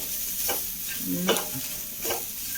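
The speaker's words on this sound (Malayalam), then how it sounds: "നാളികേരം ചിരകിയിട്ടിട്ട് ഒന്ന് വറുത്തെടുക്കാം കേട്ടോ." Grated coconut is stirred and roasted in a hot pan for a Kerala-style snack, a soft steady sizzle under several scraping strokes of the spoon, close up.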